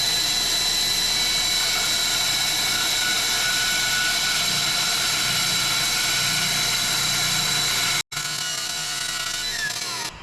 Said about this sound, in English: I am going to clean this up with the bandsaw just because it will be easier to get in there.